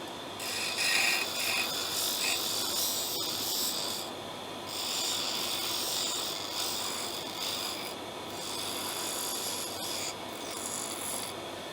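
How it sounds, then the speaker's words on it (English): Metal is ground off a hand tool to make it thinner for work on a carburettor with an idle fault, a continuous harsh rasping scrape with slight surges and short pauses, close and fairly loud with no talk. "Going to grind a bit off it."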